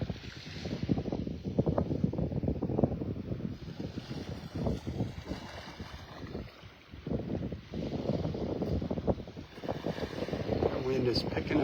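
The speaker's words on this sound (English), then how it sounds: "Wind is picking up." Gusty wind buffets a beach at Delnor-Wiggins in North Naples, Florida, roaring steadily across the microphone with surf-like rushes throughout, fairly loud.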